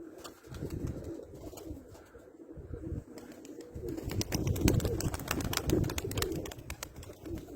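Pigeons coo and flap their wings as they land outdoors in gusty wind, with bursts of sharp wing claps building toward the end over a rumbling wind background.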